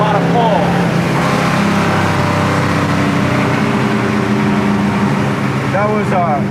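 The engine of a 1969 Chevelle Malibu SS V8 pulls strongly in fourth gear, a loud, steady, deep cabin roar that rises slightly as the car accelerates, with people talking over it.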